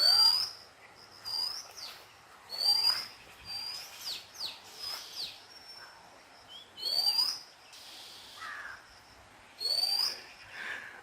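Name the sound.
whistling heard while descending a slope in Vagamon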